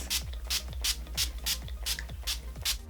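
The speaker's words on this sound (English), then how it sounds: "So I'm just gonna spray a little bit, a lot, all over my face." About ten quick hissing bursts of makeup setting spray misted from a bottle onto a face in a steady rhythm, each paired with a soft pump click, close and fairly quiet.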